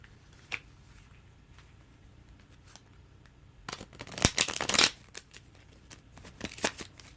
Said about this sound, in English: I'm going to shuffle one more time just to be sure.